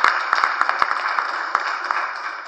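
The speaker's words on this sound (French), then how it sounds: "Je voudrais vous demander d'applaudir pour votre fils, pour votre papa, pour votre parent." Crowd at a political rally applauding steadily, a dense wash of many hands clapping with a few sharper claps standing out, sustained at an even loudness throughout.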